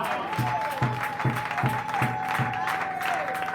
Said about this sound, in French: Acclamez un peu le Seigneur Jésus.